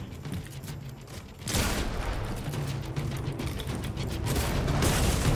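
Gunfire in Fortnite, a brief lull of mechanical clatter, then sustained rapid bursts of shots that grow denser and louder toward the end, close and continuous.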